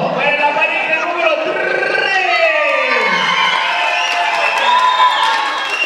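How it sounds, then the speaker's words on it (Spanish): A party crowd at a crazy-hour celebration in Santa Cruz, Bolivia, cheers and whoops loudly and continuously for a competing couple, with shrill voices and whistles layered over a dense, festive roar. "Fuerte el aplauso para la pareja número"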